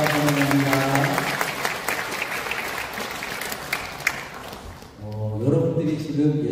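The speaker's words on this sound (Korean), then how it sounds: "환영하고 축복하는 마음으로 한번 박수해 주시겠습니다" Congregation applauding in a church to welcome newcomers, a steady wash of clapping with voices and music-like tones over it, fading briefly near the end before singing or speech resumes.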